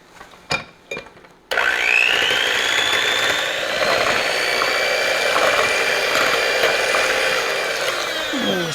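Almond Joy cake batter being mixed with dry cake mix by an electric mixer, which starts after a few clunks and whirs loudly and steadily, its pitch shifting slightly as the blades work.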